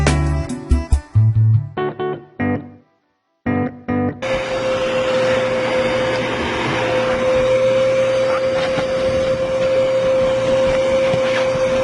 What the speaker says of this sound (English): So we're gonna vacuum my car